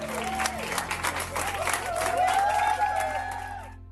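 A crowd cheers and applauds for a high school graduate receiving a diploma, with dense clapping and whoops that build, then fade out at the end.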